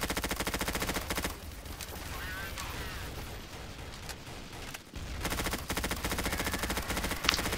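Rapid automatic gunfire in Counter-Strike Source zombie mode, dense bursts that stop for a few seconds of quieter game sound before the shooting resumes, loud and continuous.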